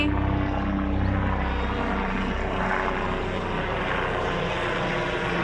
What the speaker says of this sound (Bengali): তাই এখানে একটু পর পর প্লেন যায়